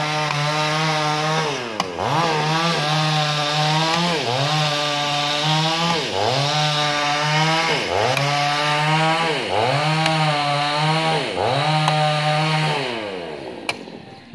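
A chainsaw cuts into the rotten trunk of a century-old tamarind tree, its engine loud and close, dipping and recovering in a repeated rhythm about every two seconds as the chain bites and eases.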